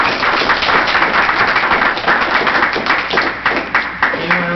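Applause from the public at a town council meeting, a steady patter of many hands clapping that fills the whole stretch at close range, thinning into a few separate claps toward the end.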